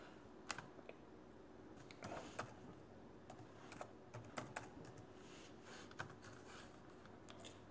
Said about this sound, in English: I'll just type it in right now,